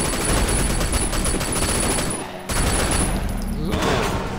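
Rapid, dense bursts of gunfire in the video game Sleeping Dogs, loud and continuous, with a brief lull midway before the shooting resumes.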